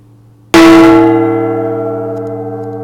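A single loud strike on a bell or gong, sharp attack followed by a long, slowly fading metallic ring with steady sustained overtones, heard alone.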